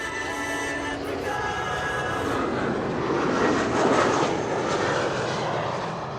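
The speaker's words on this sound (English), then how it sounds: "Cargo Lux Flight 315, arriving from Nairobi in Kenya" A Cargolux cargo airplane arriving from Nairobi comes in to land at Schiphol with its gear down, its loud jet engine roar building to a peak and then easing, heard alone without talk.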